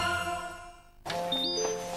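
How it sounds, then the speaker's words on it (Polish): An incoming internet call rings on a computer or phone in a Polish TV commercial, a bright chiming jingle with rising electronic tones that starts abruptly after a quieter musical stretch. "O, znowu szef dzwoni. Przez internet."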